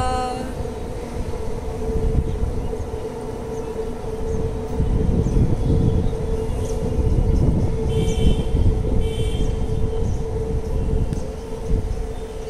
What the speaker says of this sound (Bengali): আমরা আমাদের বাড়ির ছাদ থেকে মেট্রো দেখতে পাই, ওই যে আসছে